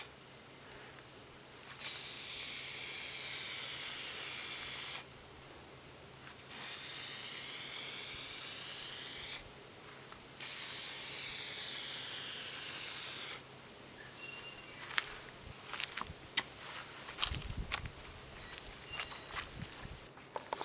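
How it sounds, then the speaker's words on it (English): Spray paint hisses onto a car grill in three long sweeping passes, a loud steady aerosol hiss with short gaps between, followed by scattered clicks and handling noises. "we're gonna do 2 coats and 15 minutes in between, and we're gonna have long sweeping strokes"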